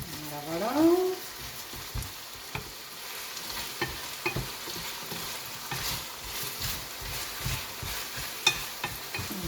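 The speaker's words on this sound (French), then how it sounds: "on mélange bien les pommes de terre" Potatoes being stirred in a frying pan for a tajine, with a steady sizzle and repeated scraping and clinking of the utensil close by; a brief voice-like tone rises near the start.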